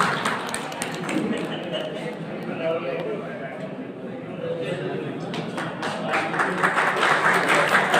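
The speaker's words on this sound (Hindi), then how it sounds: "जोरदार तालियों" Audience applause at a shayari poetry honouring event, a dense wash of clapping that swells toward the end, with voices mixed in.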